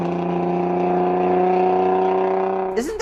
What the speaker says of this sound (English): if you're familiar with the VQ engine sounds